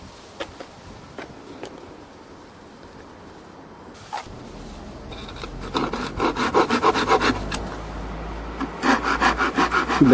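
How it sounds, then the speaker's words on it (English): A hand saw cuts into the wood of a kantele clamped to a board, starting with light scattered scrapes and building into steady, louder rhythmic back-and-forth strokes, close and alone. "To make our first saw cut, we clamp the Kantele down onto a board."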